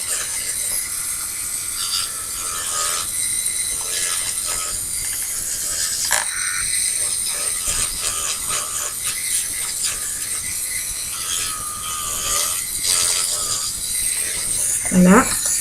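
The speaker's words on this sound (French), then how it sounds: "Je vais limer mon ongle pour enlever en fait le gras qu'il y a sur mon ongle." A fingernail is filed with a nail file during a home gel and semi-permanent polish application, giving a steady, close scratchy rasping that runs continuously at even loudness with no talking.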